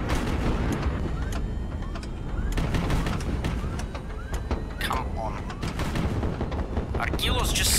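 Naval gunfire in the HighFleet video game keeps up as a dense, continuous barrage of sharp cracks and booms over a loud rumbling battle bed.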